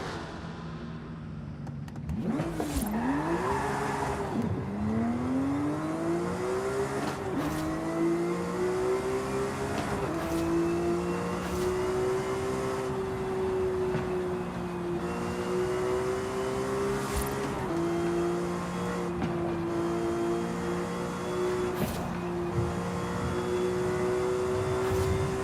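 Porsche GT3 RS in a racing video game, its engine climbing through repeated upshifts with rising and falling whine between gear changes, loud and continuous with no talk.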